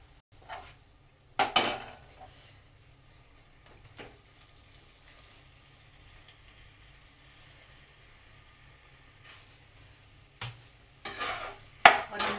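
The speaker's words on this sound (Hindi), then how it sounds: "अब हम इसमें डाल देंगे हमारा पास्ता" Pasta tipped into a pan of red masala sauce and stirred, with a few sharp clinks of a spoon against the pan over a faint, steady simmering hiss, mostly quiet between the louder scrapes.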